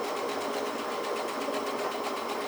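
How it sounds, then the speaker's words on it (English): A sewing machine fitted with a circular attachment foot overstitching a seam, a fast continuous whirring hum with an even mechanical pulse, close and alone. "My preferred way is I will come up and over stitch that just by a little bit, maybe 1/8 of an inch or so"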